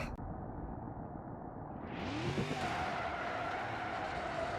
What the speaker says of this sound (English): And we're just going to de-glove this car.